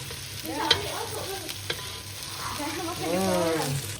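Pounded spice paste stir-fried in a pan, sizzling close by with a few clanks of a utensil, while faint voices murmur in the background.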